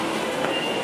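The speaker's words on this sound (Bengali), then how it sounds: "মাত্র একটা আওয়াজ পাইলাম, মেট্রো আসছে, সাথে সাথে চলে গেছে" A metro train rushing past inside a station in Bangladesh, a dense continuous roar that fills the whole moment without any voices.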